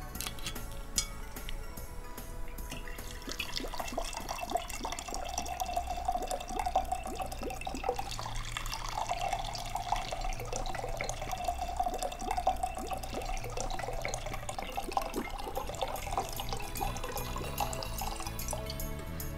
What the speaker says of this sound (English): One splash warm vodka.